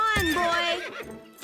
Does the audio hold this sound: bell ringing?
no